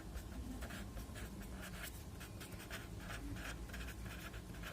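Marker or chalk writing out a long number on a board in a math lesson, a steady run of scratchy strokes over a constant background hum, with no talk.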